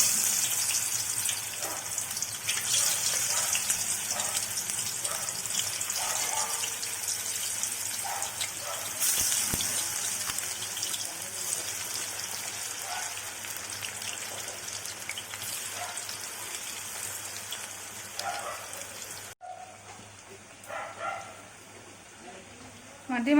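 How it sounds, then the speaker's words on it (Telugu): Raw banana pieces fry in oil in a kadai with a constant, moderately loud sizzle and crackle that goes on for over twenty seconds, interrupted near the end by a brief dip in level. "కలిపి ఉంచుకున్న అరటికాయ ముక్కల్ని వేసి వేయించుకోవాలి."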